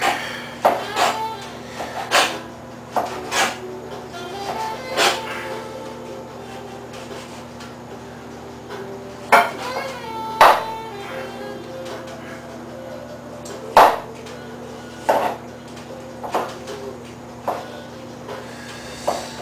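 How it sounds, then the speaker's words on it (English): A knife slices salmon and thresher shark on a cutting board, giving a steady run of sharp taps and knocks at close range, with a low constant hum underneath and no talking. "I'm going to go ahead and slice up a little variety here. We've got the salmon and this piece of thresher shark."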